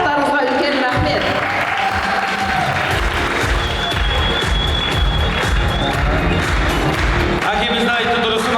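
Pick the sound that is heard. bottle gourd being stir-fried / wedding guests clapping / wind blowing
wedding guests clapping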